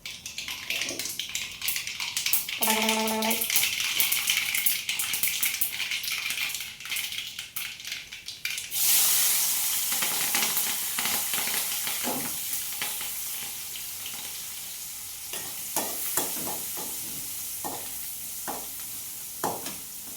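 Mustard seeds, onion and green chilli frying in hot oil, a steady loud sizzle with stirring scrapes and a burst of crackling as more goes into the pan, metal clinks scattered throughout.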